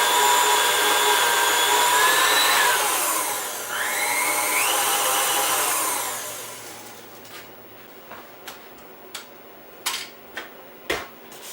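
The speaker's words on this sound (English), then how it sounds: "scraping the bowl with the beater running" A stand mixer's electric beater whirs loudly and steadily while a spatula scrapes the bowl of Pauley cake batter, then the motor stops and a few scattered taps and clinks follow.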